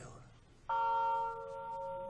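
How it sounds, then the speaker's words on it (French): A church bell in Oueilloux, Hautes-Pyrénées, swung by hand on its yoke with counterweight, rings out with one sudden loud strike that leaves a long ringing hum slowly fading. "Donc ça, c'est la cloche qui sonne à la volée, comme on dit."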